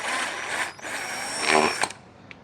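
Power drill boring holes in a scooter body, a loud close high-pitched whine in short bursts that dips and surges before cutting off.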